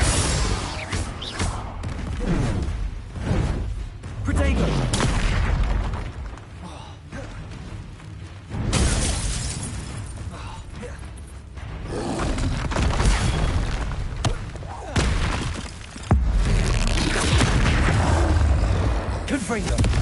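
Fiery Confringo spell blasts go off in the Hogwarts Legacy video game, loud booming explosions and crashes repeating through a hectic stretch of combat while a player talks and shouts spell names.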